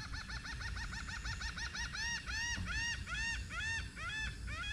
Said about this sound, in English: And the noisy birds on the beach.